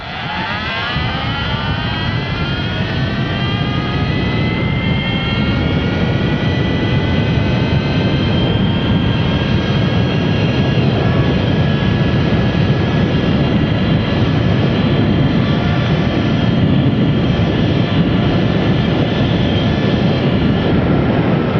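A Surron Ultra Bee electric motorbike accelerates to top speed, its motor whine rising steadily in pitch over about twenty seconds and then levelling off into a loud, close drone mixed with road and wind rush.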